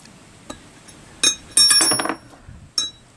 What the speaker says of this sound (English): I like to use a socket to drive them in with a hammer.